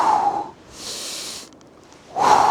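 Audible breaths during a gentle mobility exercise: a forceful nasal exhale, then a soft airy breath, then another strong exhale, close and alone.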